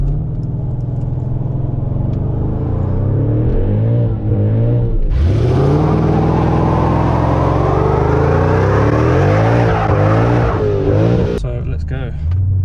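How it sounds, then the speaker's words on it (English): Mercedes CLS55 AMG doing a burnout: a loud engine rev climbs and holds, then a sustained broadband tyre squeal sets in, with people's voices faintly mixed in. "So we had our fun in doing the burnout."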